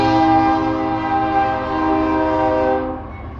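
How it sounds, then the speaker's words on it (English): A train horn blares in a loud, sustained tonal blast that fades toward the end, heard on its own without talk. "I hear a train."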